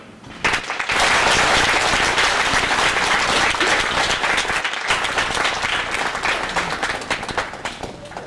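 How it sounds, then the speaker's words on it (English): Sustained applause from a graduation audience for the speakers, loud and dense, starting abruptly after a brief pause and holding steady for several seconds before tapering slightly. "Let's give our speakers one more round of applause"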